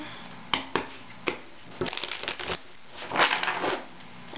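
Tarot cards shuffled by hand during a card reading, heard as a run of soft, irregular papery riffles and snaps up close, with no voices.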